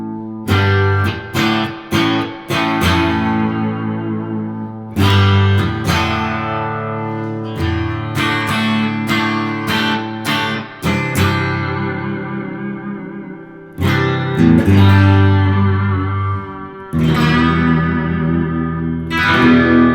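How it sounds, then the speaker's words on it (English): Loud, powerful electric guitar through an EMG humbucker pickup in dual coil mode, with heavy effects, distortion and echo, played as struck chords that ring out in bursts with short gaps between them. "now let's check out the humbucker in dual coil mode"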